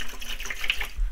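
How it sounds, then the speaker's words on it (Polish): Tap water pours steadily into the clean-water tank of a washing vacuum cleaner, a close, continuous splashing trickle with no voices over it. "No i teraz mam zalać wodą do połowy tej rurki."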